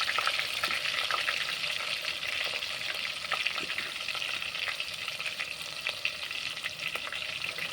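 Onions and green chillies frying in a pan for chicken biryani, a steady close crackling sizzle with occasional stirring scrapes, continuous throughout with no talk.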